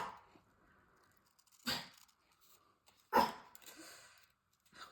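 A dog barks twice, sharp and close, with quiet pauses and faint whining between the barks.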